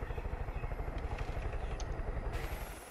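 Steady rotor-like thrum of a helicopter landing in the video game Far Cry 5, loud and continuous with a pulsing low beat, cutting off abruptly near the end.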